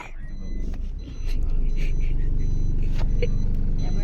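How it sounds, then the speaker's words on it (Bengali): A car being driven with steady engine rumble and road noise throughout, louder after the first second, with brief higher clicks and people talking over it. "গাইস আপনি গাড়ি চালাইতেছে"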